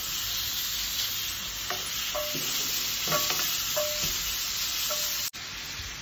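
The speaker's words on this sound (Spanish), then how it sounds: "Ya que está caliente el sartén, vamos a poner tocino. Vamos a dejar que se dore muy bien." Bacon sizzles in a hot skillet, a steady bright hiss of fat with scattered small pops and crackles, heard close and alone without voices, broken by a brief dropout near the end.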